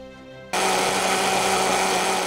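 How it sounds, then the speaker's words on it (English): A kitchen blender blending spinach, seeds and brown sauce into a mushy mix cuts in after a brief quiet moment, then whirs loudly and steadily until the end. "let's get this in the blender."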